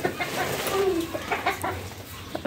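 Chickens clucking in a poultry coop as they are let outside, a steady scatter of soft clucks and calls close by, with a brief louder call in the middle and general shuffling behind.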